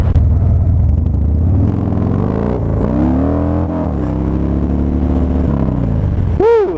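A Harley-Davidson Dyna motorcycle engine revs hard while riding, loud and close, its pitch climbing and falling through several gear changes, with a brief whooshing sweep at the end.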